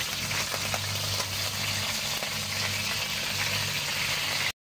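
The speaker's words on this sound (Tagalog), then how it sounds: "Ipipirito lang natin ng saglit para mag-brown lang siya." Pork hamonado, tenderised by boiling, is briefly fried to brown, giving a steady, close bubbling sizzle with a low hum beneath, loud and unbroken throughout.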